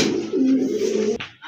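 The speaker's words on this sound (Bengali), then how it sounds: "আরেক জোড়া কবুতর" Pigeons cooing at a pigeon sale, a single close, soft throaty coo rolling for about a second, followed by a brief rustle.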